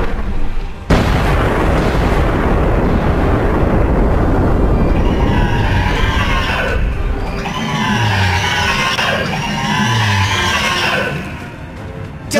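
Cannons fire at a dragon during a level 80 dragon event in the video game Guild Wars 2, a loud sustained barrage of booming blasts followed by rumbling roars and whooshing effects.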